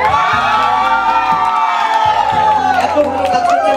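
A large concert crowd at a rock festival birthday show shouting and cheering loudly without pause, whoops and yells overlapping, with some clapping in the mix and a bit of amplified music underneath.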